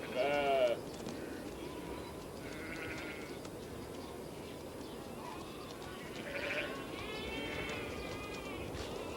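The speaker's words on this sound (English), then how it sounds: "Domestic sheep." Domestic sheep herded on open steppe plains bleat in several wavering calls, one loud nearby cry at the start and further bleats scattered through the clip over steady outdoor background noise.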